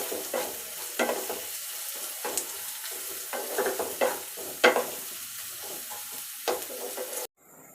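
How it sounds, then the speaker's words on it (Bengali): Onion and garlic fry in a pan, a steady sizzle broken by repeated scraping stirs at an irregular rhythm, close and moderately loud, ending abruptly, with no speech. "পেঁয়াজ রসুন মোটামুটি আমাদের ভাজা হয়েছে।"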